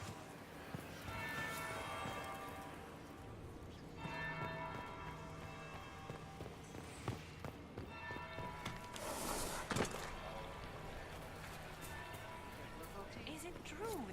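A church-style bell tolls slowly in Dragon Age: Inquisition, its long ringing tones carrying through steady ambient game noise with occasional footstep-like clatter, and voices speaking at times.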